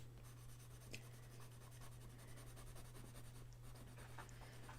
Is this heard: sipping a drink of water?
no